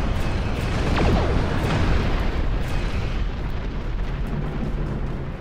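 A spaceship explodes in the space combat game Star Trek Online, a loud sustained roaring blast that rumbles steadily for several seconds without fading much.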